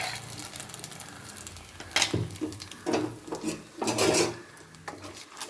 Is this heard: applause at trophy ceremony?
no